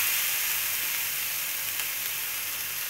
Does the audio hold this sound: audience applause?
no